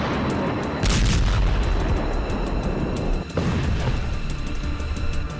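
Deep, heavy explosive booms rumble continuously, with a fresh blast around a second in and another surge near the three-second mark, loud and close.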